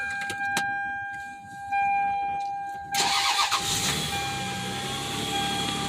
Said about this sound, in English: Alright, try and start it again.